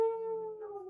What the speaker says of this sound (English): We hear the howl.